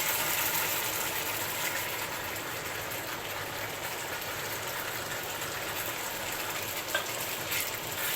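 Pork and beans fry in a pan with a soft, even sizzle while being stirred, a faint continuous hiss with a small clink near the end and no talking.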